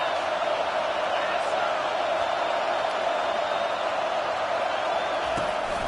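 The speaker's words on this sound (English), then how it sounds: "Third down, and this crowd is tearing the lid off this place." A packed football stadium crowd at Tennessee versus Texas roars in a steady, dense wash of noise on third down, loud and continuous with speech mixed in.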